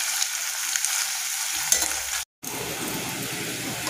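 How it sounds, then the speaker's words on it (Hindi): Onions browning in hot oil in a pan while being stirred constantly, a steady close sizzle and crackle with scraping stir sounds, broken by a brief moment of silence. "प्याज को हम ब्राउन होने तक भून लेंगे। लगातार चलाते हुए हमें भूनना है इसे,"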